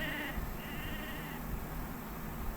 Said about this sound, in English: All the sheep in the background bawling.